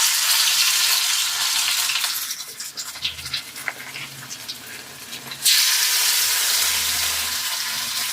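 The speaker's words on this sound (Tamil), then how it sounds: "இப்போ வறுக்க ஆரம்பிச்சிருவோங்க" Fish fries in hot oil with curry leaves, giving a loud, steady sizzle. Partway through it drops to quieter scraping and stirring, then surges back to a strong hiss.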